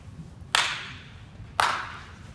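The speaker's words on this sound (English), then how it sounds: "I'm going to clap once, you load and stride, and clap again, you swing." Two sharp single hand claps, about a second apart, ring out during a batting clap drill at an outdoor hitting camp, each crisp and close over a quiet background.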